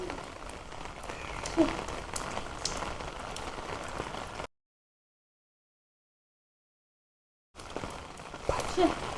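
Heavy rain pours steadily onto a surface, a dense hiss broken by a few seconds of total silence before the downpour returns.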